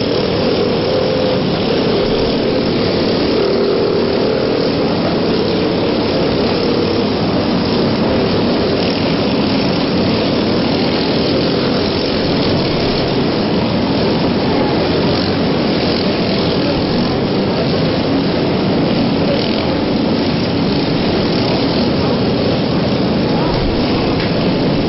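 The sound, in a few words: D9G tractor engine in lawnmower bash competition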